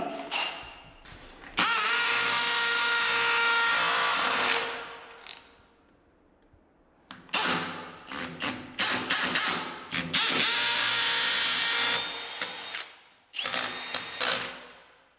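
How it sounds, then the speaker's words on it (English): A power drill whines loudly in long bursts, pausing briefly between runs, with a grinding edge as it bites into a hard wall. "So we just start the drill in the center."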